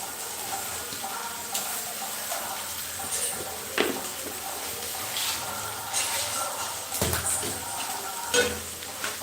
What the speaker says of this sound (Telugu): చిన్న ముక్కలు కోసాను బాగా ఎర్రగా వేగాయి